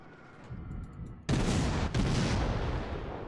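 A warship's naval artillery in World of Warships fires a heavy, booming salvo after a quieter lead-in, followed by a long rumbling roar with a second thump partway through.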